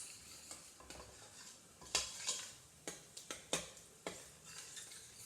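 Salt and a block of spinach are stirred into an onion and tomato curry mix in a pan, with repeated sharp scrapes and clinks of a spoon over a soft sizzle, close up with no talking.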